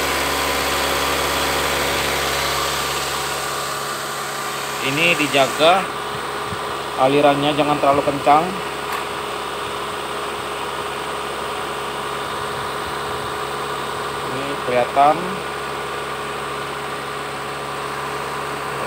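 A Kia Carens II engine runs steadily at 2000 RPM, a constant close hum throughout while someone speaks in short bursts over it.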